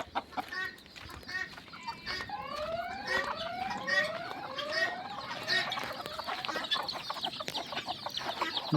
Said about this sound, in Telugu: నాటుకోళ్ళు పెంచుతున్నామండి దీంట్లో